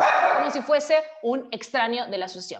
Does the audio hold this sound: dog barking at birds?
yes